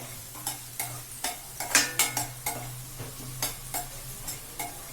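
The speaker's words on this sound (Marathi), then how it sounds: "आता गॅस बारीक केलाय मी आणि फ्राय होऊन देते" Green chilli besan pithle fries in a pan over low heat, with a faint sizzle under a dozen or so sharp spatula taps and scrapes, close by and irregularly spaced.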